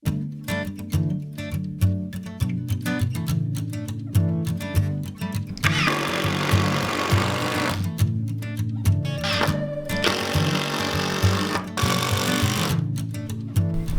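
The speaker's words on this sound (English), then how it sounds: "Screw down some floorboards." Power drill drives screws into floorboards during an abandoned barn conversion, with repeated whirring bursts and louder grinding runs, close by and fairly steady over outdoor background noise, no talk.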